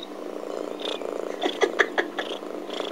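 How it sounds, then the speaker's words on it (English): A soft, steady purr runs throughout at close range, with a few brief higher squeaks and chirps near the middle. "listen to that purr"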